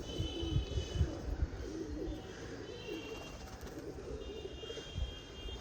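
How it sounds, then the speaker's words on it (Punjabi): A female pigeon, a fine hen brought from Sultanwind Gate in Amritsar, coos in low, soft, repeated murmurs against a steady outdoor background hum, with no voices. "ਬਾਕੀ ਕਬੂਤਰੀ ਬਹੁਤ ਵਧੀਆ"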